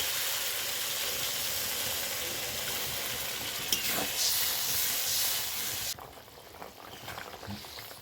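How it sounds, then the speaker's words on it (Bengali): Fish curry gravy starts to boil in a pot, giving a steady bubbling hiss that drops quieter near the end, with a few faint utensil knocks. "গ্রেভি ফুটতে শুরু করেছে"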